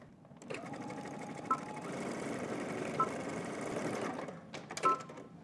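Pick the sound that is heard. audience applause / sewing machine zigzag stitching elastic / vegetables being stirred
sewing machine zigzag stitching elastic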